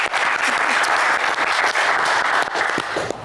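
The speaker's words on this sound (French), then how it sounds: "On vous applaudit." Studio audience applause on a French television game show, a dense continuous wash of clapping that holds steady and loud, with a few faint voices beneath.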